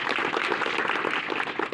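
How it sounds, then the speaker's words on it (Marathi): Applause from a seminar audience on water conservation and recharge pits, dense and steady clapping throughout the short burst with a faint murmur of voices beneath. "टाळ्या वाजवा"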